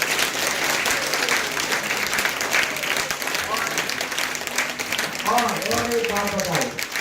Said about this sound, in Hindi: तो एक बार जोरदार तालियां बजाते हैं